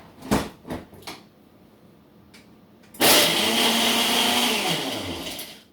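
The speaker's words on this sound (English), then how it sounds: "I'm going to go over here to my Ninja. And it's going to pulsate and make me this smoothie." A Ninja blender blitzes fruit and vegetables into a smoothie, kicking in loudly with a dense whirring roar after a few soft knocks and settling into a steady grinding run nearby.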